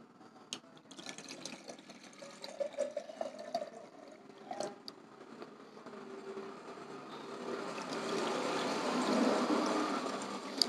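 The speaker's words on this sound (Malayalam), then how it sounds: "നിറയെ വെള്ളം ഒഴിച്ച് വയ്ക്കാം." A cup of water is poured into a clay moss pot, first as scattered drips and splashes, then a steadier rising trickle as the pot fills near the end, close and moderately quiet.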